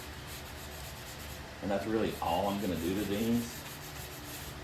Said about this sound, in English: I got a little sanding block. I'm just gonna ease the corners.